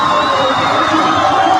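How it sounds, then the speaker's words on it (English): A packed gym crowd at a girls' high school basketball game between Huron and Pierre, roaring with sustained cheers, shouts and whoops, loud and continuous from start to finish. "The crowd loves it,"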